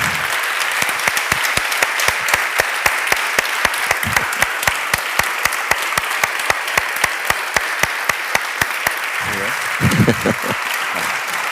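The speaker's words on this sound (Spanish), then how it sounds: "vamos a recibir con un fuerte aplauso a Santiago Posteguillo" Audience applauding to welcome a speaker at a literary event in Valladolid: loud, dense clapping with strong rhythmic unison beats running throughout, and a few brief voices surfacing near the end.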